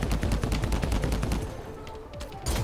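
Rapid gunfire in the video game Anthem, loud and dense automatic bursts that thin out briefly and then pick up again at the end, with no talk over them.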